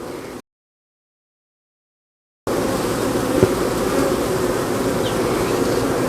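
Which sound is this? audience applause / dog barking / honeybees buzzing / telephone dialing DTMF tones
honeybees buzzing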